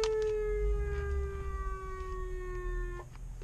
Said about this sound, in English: Every time I pull into that driveway, I would just put my sirens on.